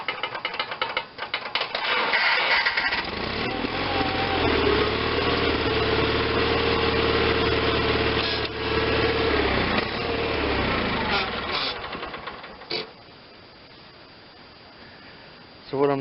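A John Deere 318 garden tractor engine runs steadily up close for several seconds, with mechanical whirring and some rattling, then quietens toward the end; no one talks.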